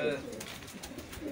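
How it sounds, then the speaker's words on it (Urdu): Pigeons coo softly at a rooftop pigeon-flying tournament in Sialkot, a low, faint burbling heard under distant voices and outdoor background noise. "ان کے پانچ کبوتر بیٹھ گئے ہیں اور دو کبوتر ابھی اڑ رہے ہیں"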